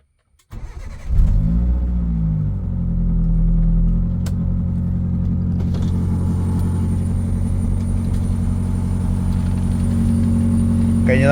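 A modified Maruti Zen Carbon cranks briefly, then its engine catches and settles into a loud, steady idle with a deep, rumbling low hum and a slight rise in revs partway through.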